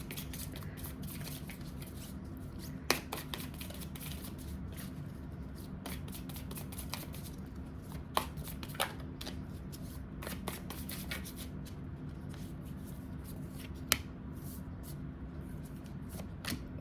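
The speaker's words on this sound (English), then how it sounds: "I'm going to go ahead and pull 2 of the Animal Spirit Oracle cards." A deck of Animal Spirit Oracle cards is shuffled by hand, producing a continuous soft riffling with occasional sharper snaps of the cards, close and fairly quiet.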